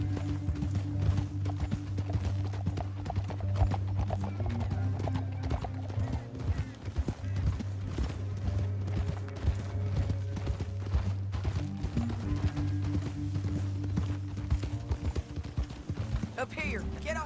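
Horse hooves clip-clop steadily through a Red Dead Redemption 2 ride, the rhythmic footfalls sitting under a low droning score and occasional voices, with a brief whinny suggested near the end.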